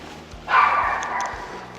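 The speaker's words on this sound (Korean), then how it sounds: "우렁찬 멍멍이가 살고 있다" A loud dog barks once sharply indoors in a residential building hallway, with a short trailing tail after the bark.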